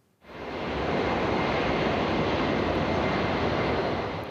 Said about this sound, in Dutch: Een enkel vliegtuig kon nog landen